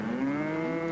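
A single long, low cattle moo, close and loud, held steady for nearly a second in an outdoor ranch setting.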